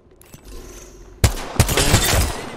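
Gunfire in Apex Legends: a faint low rumble builds, then a sudden close burst of several rapid loud shots with crackling echo fills the last half.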